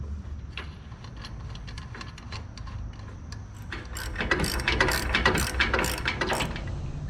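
A hand ratchet clicks rapidly as bolts are tightened during a Crown Vic front-end swap on a 1970 Dodge D100 Sweptline pickup, a close, continuous ratcheting that grows denser and louder partway through.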